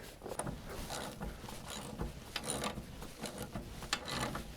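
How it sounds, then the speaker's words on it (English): An old rusty ratchet with a socket turns a frozen sawmill jack, giving a continuous run of fine pawl clicks and metallic grinding, close and moderately quiet, with a few louder knocks and no speech. "So now I've got this old rusty ratchet that I leave here, and a socket fits on it perfect."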